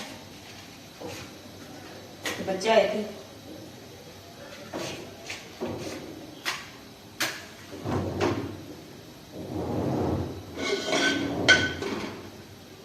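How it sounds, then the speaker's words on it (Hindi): A door is shut at home during an afternoon kitchen routine, with a series of sharp knocks and bumps spread across the clip and a brief spoken line among them. "तो बस दरवाजा खुला हुआ तो मैं बंद करती हूँ"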